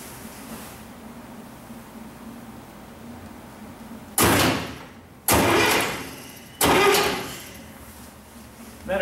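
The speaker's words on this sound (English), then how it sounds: "we'll see if the engine actually cranks over when I do that." A military diesel generator engine cranks over three times on its starter motor, energized through the starter solenoid. Each burst is loud, close and lasts about a second, with a faint low hum in the gaps.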